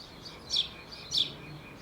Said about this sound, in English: Can you guys hear these birds?